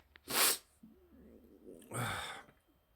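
A person sneezes, with a sharp burst, then a short breathy nasal sound and a second forceful sneeze-like exhale, close and fairly quiet.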